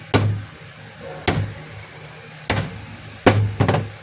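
The chuck of a DeWalt DCD7781 cordless hammer drill is struck against a table to tighten it. Four sharp, close knocks are evenly spaced, and the last comes with a quick second tap.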